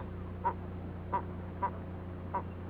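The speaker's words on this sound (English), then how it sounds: "A kelp goose." A kelp goose calling on a grassless seashore, four evenly spaced short honking notes, moderately close, standing out over a steady low wind and surf rumble.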